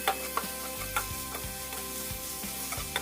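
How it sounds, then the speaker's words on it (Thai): Minced pork stir-fried in a pan for pad kaprao, bright close sizzling with rhythmic spatula strokes and clinks every fraction of a second, no voices. "จากนั้นใส่หมูสับลงไปค่ะ ผัดคลุกเคล้าให้เข้ากันดีเลยนะคะ"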